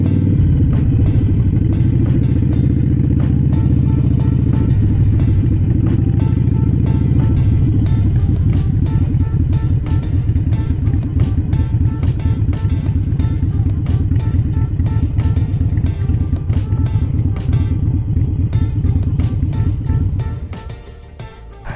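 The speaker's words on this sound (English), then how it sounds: "you gotta let them know it's a Harley coming" A Harley-Davidson motorcycle engine rumbles loudly and continuously while riding and downshifting on a first solo ride, with the throttle pulsing and the note dropping away near the end as the bike turns into a dealership.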